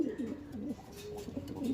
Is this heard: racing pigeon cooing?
yes